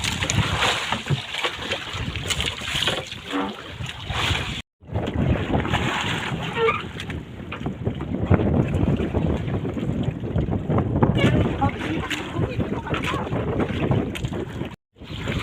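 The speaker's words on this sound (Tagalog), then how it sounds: "magasagwan-sagwan." A boat is paddled on a river with a strong current, with continuous rushing water and wind buffeting the microphone, a few faint splashes, and two very brief dropouts.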